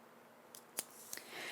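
Scissors make a few quiet snips while trimming a paper craft piece, three short crisp cuts spaced apart against a near-silent background.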